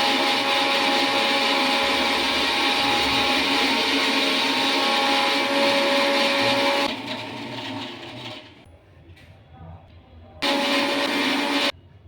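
A mixer grinder's small jar grinds black pepper into powder: a loud, steady whirring motor runs for about seven seconds, winds down, then gives one more short burst near the end.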